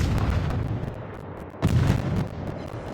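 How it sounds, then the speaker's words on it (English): Naval gunfire in a video game aimed at the Jean Bart battleship: a continuous rumbling barrage with a heavier boom about halfway through, loud and close, without speech. "Trying to get some shots on the back of that, the bow end, or sorry, the stern end of that Jean Bart to get some more fire damage."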